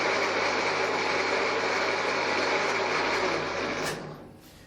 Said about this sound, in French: si je démarre le tour, vous allez voir, c'est la barre de chariotage qui va tourner